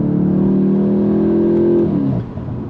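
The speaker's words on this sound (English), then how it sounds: "You do every now and then get some real pops and bangs out of the exhaust" A 2025 Volkswagen GTI Mk8.5 engine holds a steady, loud rev that rises slightly in pitch before dropping away abruptly, leaving a lower idle rumble.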